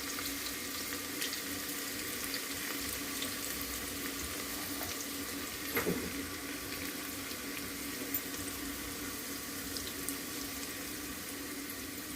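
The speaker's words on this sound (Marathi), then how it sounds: "कढीपत्ताही चांगला फ्राय होऊ द्या तेलासोबत" Curry leaves and chopped onions frying in hot oil for a prawn biryani, a steady, even hiss of sizzling throughout with one brief louder crackle partway through, no voices.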